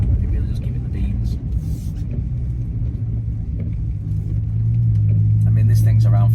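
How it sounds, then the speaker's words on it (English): Engine of a Bentley Flying Spur of around 500 bhp while driving, a low steady rumble heard from inside the cabin that rises in pitch toward the end, with someone talking over it. "the engine tone changing as we change gear, and it's a beautiful sound."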